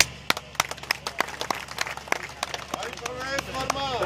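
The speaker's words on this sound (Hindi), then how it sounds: "तालियां, देखो ये तालियों की आवाज वैसी आई नहीं" Scattered, uneven clapping comes from a crowd at an outdoor political rally in Delhi. Sharp individual claps are spread over a few seconds, and a voice comes in toward the end.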